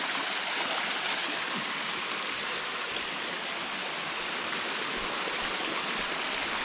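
Kakawayan waterfall in Infanta, Quezon, a steady broadband rush of falling water, close and constant with no break.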